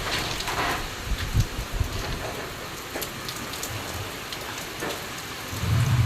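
Steady heavy rain pours down during a strong windstorm with a dense, hissing wash of drops, broken by occasional low rumbles.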